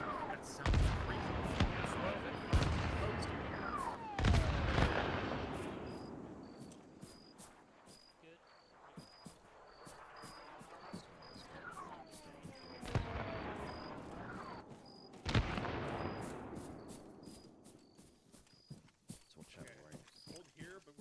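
Video game gunfire from Arma 3: sharp gunshots crack intermittently over a roar of heavier blasts and rumbling, with bursts of rapid fire and voices talking throughout.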